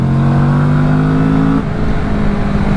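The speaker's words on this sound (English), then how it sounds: "when you're accelerating, this 2-cylinder sounds very nice" A 2024 Kawasaki Vulcan S two-cylinder motorcycle engine revs hard and steadily, a loud sustained drone that rises in pitch before dropping off as the throttle eases, with no talking.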